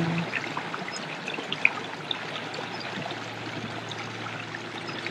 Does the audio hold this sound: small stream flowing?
yes